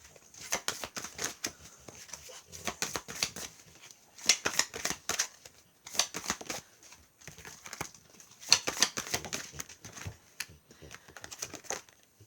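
Cards handled and drawn from a deck during a French card reading, with quick papery flicks and riffling bursts in clusters, fairly close and alone, without talk.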